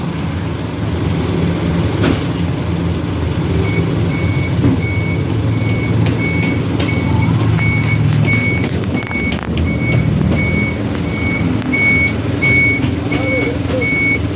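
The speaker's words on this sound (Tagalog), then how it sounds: "So, eto na po ang truck." A truck arrives with a steady, evenly spaced reversing beeper over a constant low engine rumble, loud and close throughout, with faint voices in the background.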